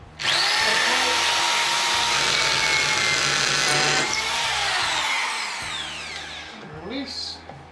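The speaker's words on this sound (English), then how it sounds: "you get your drill, your special Craig drill, and just line it up inside the metal sleeve here" A power drill bores through oak via a metal guide sleeve, a loud, steady whine sustained for several seconds before winding down, with brief tool handling at the end.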